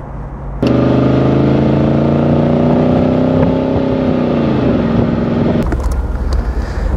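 A 1970 Mercedes 280 SE 3.5 Cabriolet with a 3.5-litre V8 drives along, its engine droning loud and close in a smooth steady hum that dips briefly as the revs shift, then cuts away.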